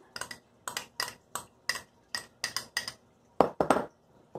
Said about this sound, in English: Let's mix all together, okay?